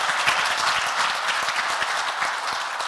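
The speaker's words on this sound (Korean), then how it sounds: "큰 박수 부탁합니다" A lecture hall audience at a Wednesday morning special lecture breaks into sustained applause, a dense even wash of clapping heard alone and fairly close.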